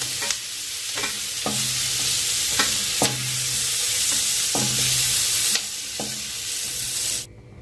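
Onion and capsicum sizzle steadily in a hot pan, with a spatula scraping and stirring every second or so, close and loud.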